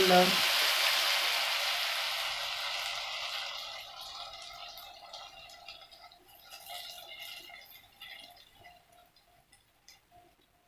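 Onions fried until golden are poured into a pot of lentil soup, bursting into a loud hiss that gradually fades into soft crackling and ticking over several seconds.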